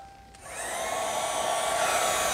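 A hair dryer blasts steadily at close range to dry a wet watercolor painting, its whooshing roar rising in strength after a quiet start and holding constant.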